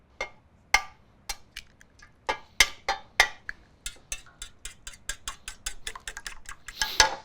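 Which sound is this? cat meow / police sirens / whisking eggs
whisking eggs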